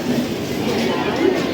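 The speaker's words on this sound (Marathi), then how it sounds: "विरार स्टेशनला आलो आहे आणि विरार ट्रेन लागलेली आहे" Train idling at the platform of Virar railway station, a steady low rumble of rail transport continuous throughout with station hubbub and voices mixed in.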